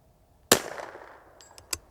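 A CZ 457 .22LR rifle fired at steel targets outdoors: one sharp crack followed by a ringing decay, then a few faint quick ticks and impacts afterward.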